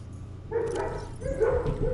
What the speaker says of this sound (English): my dogs are so happy